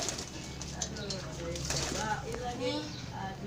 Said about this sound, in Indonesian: Nih, Merpati putih.